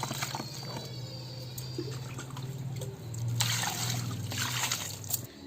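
Water is poured and splashed over greens being washed by hand, with trickling and sloshing sounds, intermittent clatter, and a low background hum.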